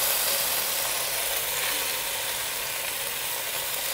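Pork for pad see ew stir-fries in a hot pan with a dense, continuous hiss of frying that stays loud and even throughout, with no voices.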